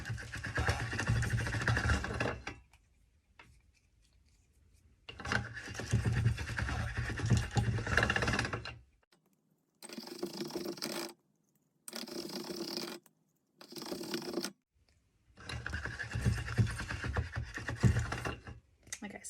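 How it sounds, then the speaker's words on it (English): Polymer clay rolls through a hand-cranked pasta machine in repeated passes, each a grinding mechanical whir lasting a few seconds, separated by quiet pauses and a few shorter bursts of cranking. "I'm going to start passing my clay now through the pasta machine"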